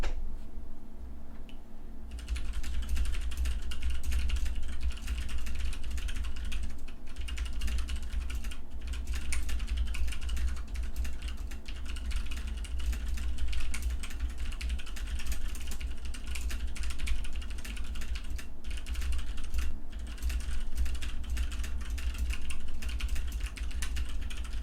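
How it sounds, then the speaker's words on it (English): Typing on a budget mechanical keyboard with stock keycaps and stock switches, a continuous quick run of clacky keystrokes heard close up over a low background hum, with no voices. "here I'll give you a quick typing demonstration on this. You can kind of hear what it sounds like with the stock caps and the board being completely stock."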